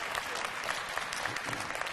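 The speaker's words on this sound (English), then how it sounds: "Give the Lord a hand clap for that." A church congregation at a Wednesday night Bible study claps hands in praise, a sustained, moderately distant patter of many hands with no voices over it.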